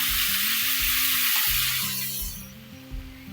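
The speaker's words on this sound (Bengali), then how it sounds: "পটলটা ভাজতে টাইম লাগে" Sliced pointed gourd (potol) fries in hot oil, a loud steady hiss of sizzling that softens and dies down midway, over a looping low musical bed, with no talk.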